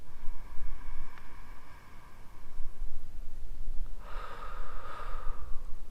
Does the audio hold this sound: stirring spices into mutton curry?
no